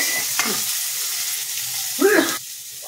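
Green chilli paste frying in a pan, a steady close hiss of oil with a couple of brief stirring scrapes.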